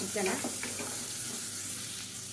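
Bone-in chicken pieces sautéing in a pan, a steady close sizzle with light stirring scrapes, alone without talk.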